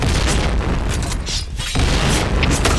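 A grenade blast in the shooter game Point Blank, a loud booming burst with dense rumbling noise that fades briefly and then surges again, with no voices.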